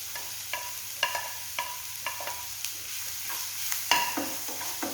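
A spoon stirs chopped onion into ginger, garlic and green chillies frying in a pan, making a soft steady sizzle. About eight distinct scraping strokes come at irregular intervals, close and quiet, with no talking.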